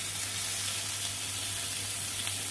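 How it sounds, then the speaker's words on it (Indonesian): Shrimp brushed with olive oil grilling in a pan, a steady close sizzle with fine crackles running evenly throughout, no voices over it. "Sekarang kita akan panggang udang dan kita akan olesi sedikit minyak olive"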